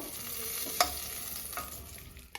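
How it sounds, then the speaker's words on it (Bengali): A fish head fries in smoking-hot oil: steady sizzling and crackling close by, with a couple of brief sharp pops and spatters; no voices. "তেলটা আমার গরম হয়ে গেছে আর তেল থেকে ধোয়া বেরিয়ে গেছে এই যে এবারে মাছের মাথাটা দিয়ে দেবো"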